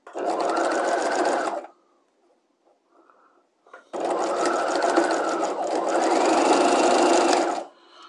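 A sewing machine runs a half-inch side seam on a basic dress bodice, with back tacking at both ends. Two loud, close, steady bursts of stitching are split by a short quiet gap with faint handling.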